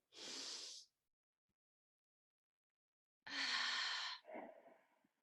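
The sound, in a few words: deep breathing during breathing exercise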